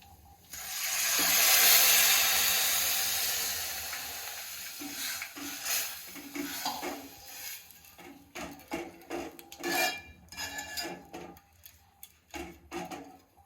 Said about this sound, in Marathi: आता आपल्याला याच्यामध्ये दूध ॲड करून घ्यायचं आहे तर मी दूध ॲड करून घेत आहे